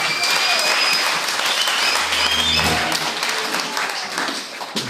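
A church congregation at a service in Laare claps hands together in loud, sustained applause that fills the room, with a few voices mixed into the dense clapping.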